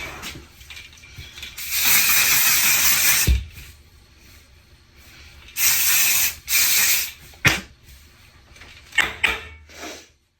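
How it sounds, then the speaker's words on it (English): Hairspray from an aerosol can is sprayed onto curly hair in long, loud hissing bursts, followed by shorter spurts with brief pauses and soft handling noises between them. "We're gonna use our regular hairspray."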